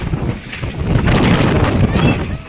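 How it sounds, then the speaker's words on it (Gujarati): Strong storm wind blasts across the microphone during a cyclone, loud gusting roars that surge and ease over a couple of seconds, close and buffeting, with faint background sounds mixed in. "પવન બહુ ભયાનક પવન આવી રહ્યો છે"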